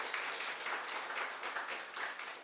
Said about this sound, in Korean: 격려의 박수.